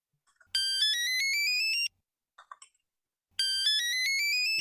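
A mobile phone ringtone plays a bright repeating melodic pattern in two loud bursts, separated by a short pause with faint clicks, heard alone without talk.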